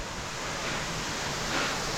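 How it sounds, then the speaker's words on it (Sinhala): Bambarakanda Falls, Sri Lanka's highest waterfall, with water pouring down in a dense, steady roar heard alone and fairly close, with no talking. "මෙන්න අපේ බඹරකන්ද දියැල්ල."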